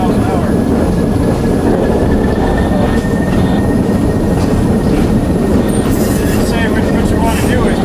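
A train at the Orange Empire Railway Museum rumbles along the rails at about 5 miles an hour, air brakes applied for a switch, with a steady, loud low roar and faint metallic squeals, continuous throughout.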